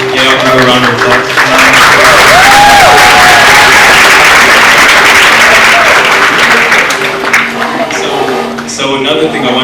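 An audience at an art exhibition and fashion show in Houston breaks into loud, sustained applause with some cheering, close and dense, then slowly thins out while people talk.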